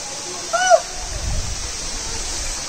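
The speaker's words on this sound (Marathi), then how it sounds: "धबधबा धबधबा धबधबा." A waterfall at Marleshwar in the Sahyadri hills, running low on water, roars as a steady, close rush with a brief whistle-like tone near the start.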